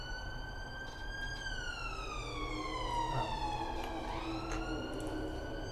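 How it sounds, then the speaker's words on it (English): Emergency vehicle sirens wail steadily outside, their pitch sweeping and shifting as they pass at moderate distance, continuous throughout without any talking. "Sorry for the sirens."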